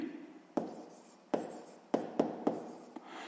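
Pen writing a fraction by hand on paper during a math exercise, a handful of distinct scratchy strokes and taps at uneven intervals, close and quiet.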